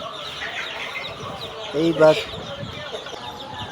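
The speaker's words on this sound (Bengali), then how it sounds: "দেখুন ফার্মের মুরগির বাচ্চা" Farm chicks and hybrid Sonali chickens being sorted for packing cluck softly against a low background murmur, with a brief louder burst of clucking midway and a short human voice.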